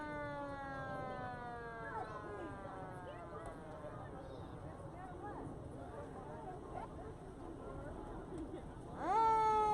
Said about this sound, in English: you can hear the sirens in the distance